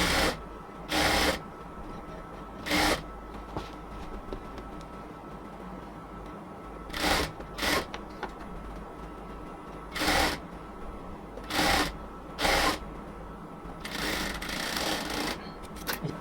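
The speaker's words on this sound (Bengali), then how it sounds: "পুরো হাতাটাকে হচ্ছে আমরা আরেকবার ডাবল সেলাই দিয়ে নেব" A sewing machine double-stitches the full sleeve of a cotton kameez in about eight short bursts of running stitches, with quieter pauses between them and a longer run near the end.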